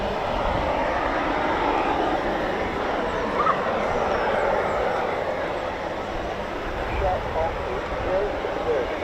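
A Eurofighter Typhoon FGR4 jet passes over an RAF station, its engine roar a steady, broad, loud rumble lasting throughout, with a dog barking faintly and people talking in the background.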